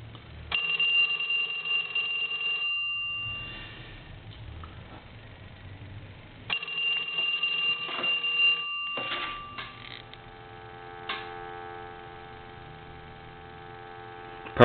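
A Western Electric 3-slot payphone bell rings in two long bursts with a pause between, close and fairly loud, over a low steady hum, followed by quieter humming tones.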